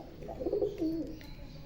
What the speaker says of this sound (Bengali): এই যে পায়রা দুটো দেখুন, দুটোই রয়েছে গিরিবাজ।